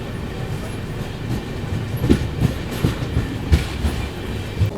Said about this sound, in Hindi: आराम से 5 मिनट रुकने के बाद अभी अपनी ट्रेन निकल रही है चर्लपल्ली रेलवे स्टेशन से